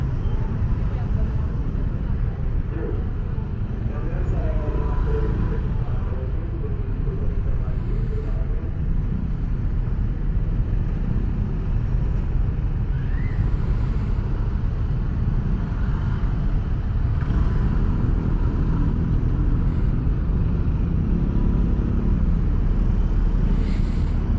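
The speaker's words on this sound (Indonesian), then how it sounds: "Gokil macet banget, tapi wajar sih macetnya." Dense, steady road traffic rumble with idling and creeping engines close by, a continuous low drone throughout with faint voices mixed in.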